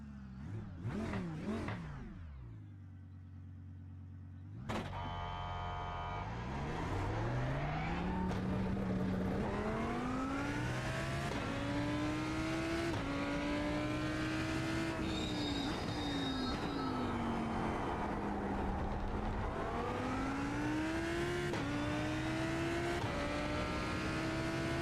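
A Lamborghini GT3 race car in a racing game at Fuji howls through rising engine notes, revving up after a launch and climbing through gear changes, loud and continuous with no talk.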